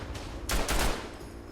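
Heavy rumbling bursts of artillery fire in the World War I shooter Tannenberg, two overlapping booms in quick succession over a constant low battlefield roar.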